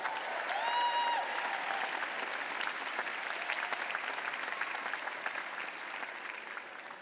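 A large crowd at a 2017 graduate school commencement gives sustained applause to the staff: a loud, dense wash of clapping that holds steady for several seconds, with a brief whistle near the start.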